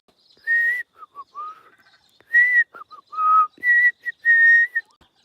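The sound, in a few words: butcher bird whistling song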